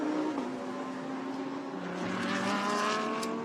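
Porsche GT race cars from the Absolute Racing team at a Blancpain GT Series Asia 2019 race in Thailand roar past on track, a loud, sustained engine howl whose pitch slides gradually lower as a car passes, with no voices heard.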